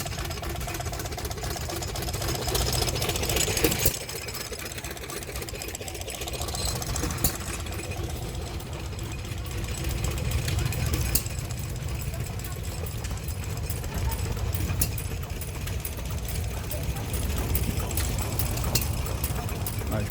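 An old stationary 4-horsepower mower engine runs at a tractor and engine show, a steady, fairly quiet putter with faint knocking that persists throughout, under outdoor crowd noise and nearby talk.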